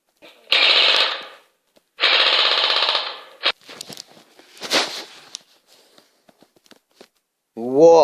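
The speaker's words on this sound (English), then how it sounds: "Shooting? And lots of bombing?" Two long, loud bursts of rapid machine-gun-like fire in a homemade movie, followed by scattered lighter bangs and crackles. A voice comes in at the very end.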